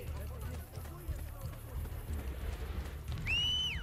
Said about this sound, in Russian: смотрите, какая лошадь прибегает